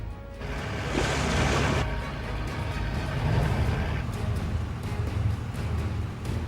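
Open Pacific Ocean water off Peru, heard from a squid fishing vessel: a loud, continuous rushing wash of waves blends with deep engine rumble, surging briefly early on, then rolling steadily.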